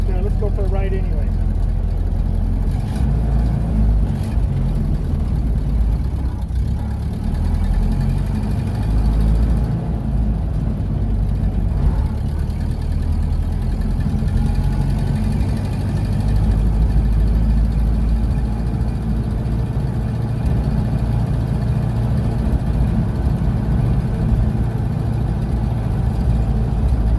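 A 1930 Model A Ford engine drones steadily from close up throughout a long drive, a low rumbling chug with the car rattling along, apparently without an exhaust system.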